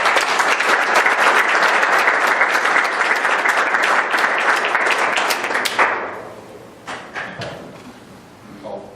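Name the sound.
applause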